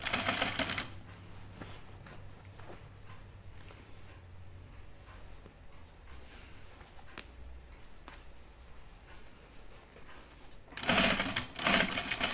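A sewing machine runs in quick bursts while stitching a wool duffle coat near a gathering line, its rapid mechanical chatter loudest at the start and end, with quieter handling sounds between.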